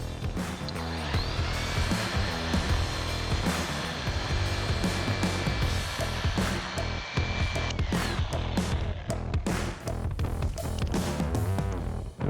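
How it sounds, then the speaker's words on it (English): A dual action polisher works car paint with a graphene 3-in-1 product, giving a steady, continuous close-up whir with slight shifts in pitch and some rubbing and handling noise throughout. "now I'm using the dual action rotation along with the Graphene 3-in-1 to refine the surface"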